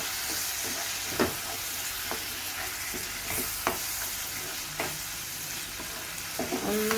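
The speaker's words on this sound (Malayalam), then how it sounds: "ഞാനൊരു 2 തക്കാളി ചെറുതായി അരിഞ്ഞത്, ഇതും കൂടെ നമുക്കിത് നന്നായിട്ടൊന്ന് വഴറ്റാം." Chopped tomatoes sauté in a hot pan with a steady close sizzle, while a spoon scrapes and stirs in a loose rhythm of sharp knocks throughout.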